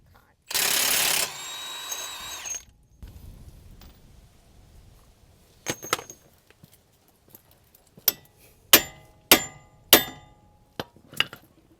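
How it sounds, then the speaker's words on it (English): Sharp metallic strikes of a copper hammer ring out during suspension work on a Hyundai Elantra, a few scattered hits then a quicker run of five or six blows, after a loud burst of power-tool noise at the start. "I've used a copper hammer for a very important reason."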